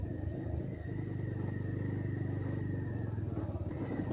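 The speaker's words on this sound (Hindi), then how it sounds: "अभी लोग बाइक से इधर जा रहे हैं यार" Motorbikes running along a village road in Diphu, Karbi Anglong, a steady engine rumble that holds close and loud throughout, with a faint whine riding above it.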